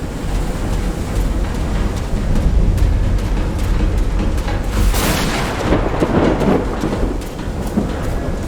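Thunderstorm in the video game Call of the Sea, with steady heavy rain hissing throughout and deep rolling thunder rumbling underneath, swelling into a louder crack and roll midway before settling back into the rain.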